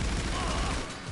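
A short burst of gunfire from GTA 5 cracks loudly and close in a noisy game mix, lasting about a second.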